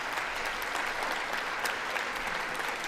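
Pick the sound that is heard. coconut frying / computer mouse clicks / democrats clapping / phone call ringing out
democrats clapping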